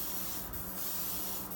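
A Ruby-Cell home care device sprays in a steady, continuous hiss, close and even, with no voices.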